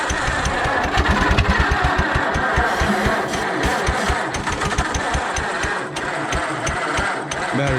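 Allis Chalmers WD tractor engine running after an in-frame rebuild, chugging with a rapid uneven rhythm and occasional pops, loud and close, with no talk.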